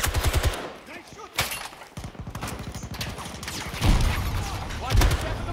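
Gunfire in the video game Battlefield, with rapid bursts of automatic shots and a dense stutter of rounds, loud and close, broken by short pauses and heavier impacts, under shouted player voices.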